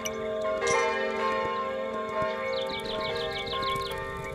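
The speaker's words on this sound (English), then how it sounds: "Where is this bell coming from" Bells ring in the video game Kingdom Two Crowns, sustained and resonant with steady strikes, over a soft rhythmic clip-clop and light ticking, with a quick run of higher chimes near the end.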